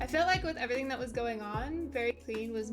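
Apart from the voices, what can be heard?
No distinct noise like a dog, phone or traffic.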